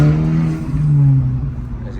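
A 2025 Honda Civic Type R FL5 accelerates hard, its engine note loud and close from inside the car, a strong droning tone rising steadily in pitch before easing off.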